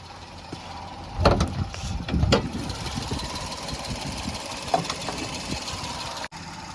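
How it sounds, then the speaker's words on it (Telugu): A 2016 Maruti Suzuki Alto LXi idles with its bonnet open, giving a steady, moderate engine drone. A few louder thumps and knocks come early on, then the idle runs evenly until a sharp click near the end. "మీరు ఇప్పుడైతే ఇంజన్ సౌండ్ అయితే వినొచ్చు. ఇంజన్ ఆన్లో ఉంది."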